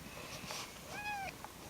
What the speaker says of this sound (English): Let's see my cat.